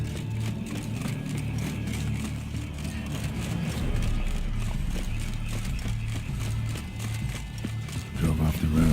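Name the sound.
horse Roach galloping in video game The Witcher 3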